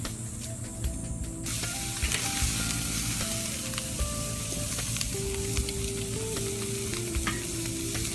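Swordfish, shrimp and pineapple kabobs sizzle loudly on a hot, clean grill grate, a steady close hiss of searing with scattered pops and crackles throughout.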